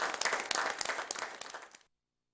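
Enthusiastic applause from a crowd at a luncheon, a dense, steady burst of many hands clapping that fills nearly two seconds before stopping abruptly.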